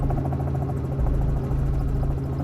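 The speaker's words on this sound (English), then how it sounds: "The helicopter will check on more than 60 extraction sites today" Constant rotor thump and engine drone of a helicopter flying over oil and gas extraction sites, steady and fairly loud throughout with no talking.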